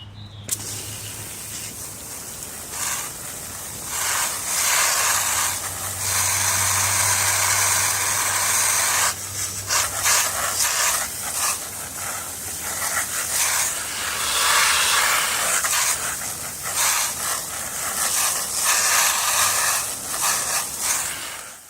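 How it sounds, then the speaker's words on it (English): A garden hose sprays water over a freshly degreased motorcycle chain, a continuous close hissing rush that swells and breaks up in bursts as the stream moves, with a low engine-like rumble underneath. "then I'm going to hit it with the hose"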